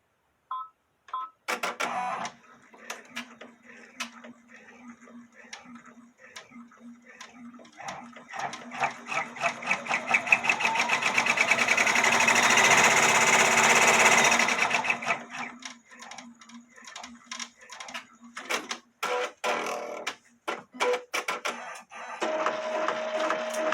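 An embroidery machine stitches appliqué onto a bodysuit, running in rapid mechanical bursts with pauses between, building to a long steady whir midway before returning to short stop-start stitching runs.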